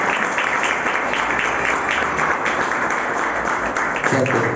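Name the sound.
congregation applause in church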